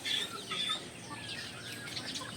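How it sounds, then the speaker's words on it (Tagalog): Chickens clucking on a farm where hens and ducks are being fed, soft overlapping clucks and chirps close by over steady outdoor background noise. "Kain tayo ng mga manok at pato."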